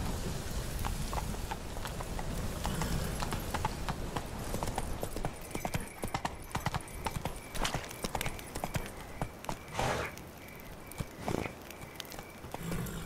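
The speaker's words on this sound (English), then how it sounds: "That's it, Roach. Not so fast, Roach." Hooves clip-clopping in a steady, rapid rhythm as a horse gallops in The Witcher 3, close and continuous across the scene, with a rain-like hiss underneath and a voice speaking briefly over it.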